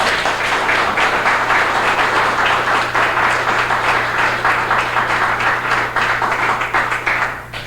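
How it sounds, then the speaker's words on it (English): An audience at a high school quiz bowl championship gives sustained applause, loud and even clapping from many hands over a low steady hum, tapering off slightly at the finish. "could we have a round of applause for all who are participating today?"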